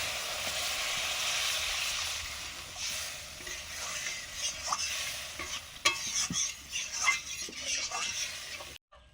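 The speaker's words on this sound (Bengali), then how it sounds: "মশলা কষানোর পরে পরিমাণ মতো জল দিয়ে দিচ্ছি।" Water poured onto fried spice paste in a pan gives a loud broadband hiss and sizzle that gradually settles, punctuated by utensil clinks and stirring scrapes before it cuts off.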